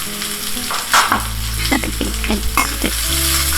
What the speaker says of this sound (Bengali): এবার কাটা পেঁয়াজটা আমি ছেড়ে দিলাম তেলে।